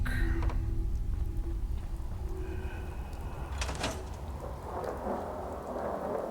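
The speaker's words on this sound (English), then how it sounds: "I've got a rad storm rolling in." Radiation storm from the game Fallout 4: continuous heavy rain hiss with a low rolling thunder rumble and a sharper thunder crack midway, steady and fairly loud throughout with no talking.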